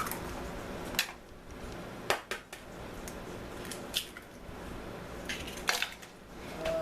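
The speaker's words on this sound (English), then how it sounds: "Now I'm just going to mix this together until it's all incorporated" Lemonade cheesecake batter with eggs being mixed in a bowl, heard as quiet, irregular scraping and clinking of a utensil against the bowl with soft wet squishes and a few sharper taps.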